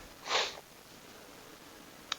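A person with hay fever sniffs once, a loud close breathy intake lasting about half a second, followed by quiet and a couple of faint clicks.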